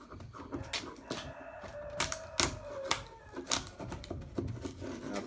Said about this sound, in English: decided to use the chisel to try to peel most of it off